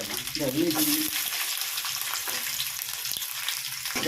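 Garlic fries in a pan for a traditional herbal mudavattu leg soup, giving a steady, close sizzle throughout, with a brief voice sound near the start.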